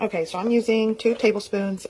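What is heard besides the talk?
None of the usual background noises is heard.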